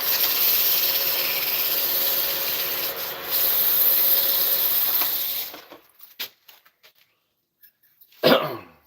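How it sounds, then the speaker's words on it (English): Hand sanding wood with 80 grit sandpaper produces a steady, loud abrasive rasp for about five seconds, then stops, leaving a few brief scrapes and knocks and one short sharp burst near the end. "you have to take and sand them by hand. A lot of the times. Now this is 80 grit I'm using."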